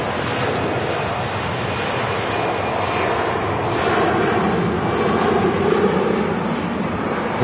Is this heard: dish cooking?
no